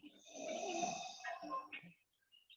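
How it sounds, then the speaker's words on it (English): A low, raspy zombie growl from a video game, with a snore-like rattle, fairly faint, followed by a brief quiet tail. "this is the sound of the zombie"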